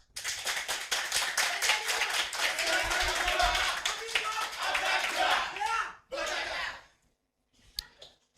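An audience applauds loudly for about six seconds, with some talk mixed in. The clapping stops abruptly and a few faint taps follow.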